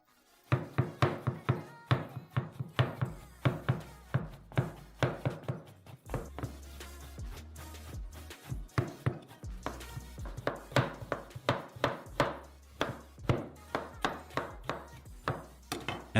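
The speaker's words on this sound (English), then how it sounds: "but first finely chop it" Milk chocolate being finely chopped with a knife on a cutting board for homemade nougat, a fast run of sharp, close knocking chops in steady bursts.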